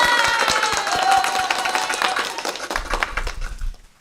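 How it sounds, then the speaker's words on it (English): Scattered clapping from a small group, fairly close and uneven, fading out toward the end during a live Final Cut Pro show broadcast. "Let's give them a round of applause for that."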